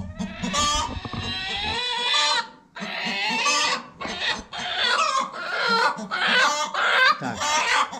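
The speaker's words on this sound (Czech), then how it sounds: "Slyšíte ten zvuk, jaký vydává? To je prostě chvočná, která chce sedí na vajíčka." A broody hen clucks loudly up close in a series of harsh, drawn-out, agitated bursts separated by short pauses.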